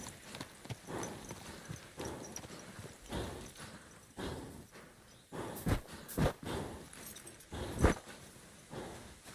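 Horse hooves clip-clop at a steady walking rhythm in Kingdom Come: Deliverance II, moderately close under a low ambient bed, with a few sharper, louder hoof strikes standing out near the end.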